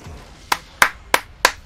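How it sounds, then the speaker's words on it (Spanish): Four evenly spaced hand claps, sharp and close, about a third of a second apart, a brief burst of applause with no voices. "Aplauso."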